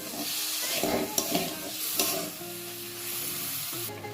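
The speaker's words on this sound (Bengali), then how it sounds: "আর দেব হাফ বাটির মতন চিনি দিয়ে ভালো করে নেড়ে দেব, যাতে চিনিটা একটু গলে যায়" Sugar being stirred in a pan of hog plum chutney until it melts, with a soft continuous sizzle and a few scraping strokes of a spoon against the pan, close up with no voices.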